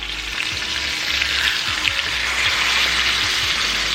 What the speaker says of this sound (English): we want a nice sear on the skin before flipping it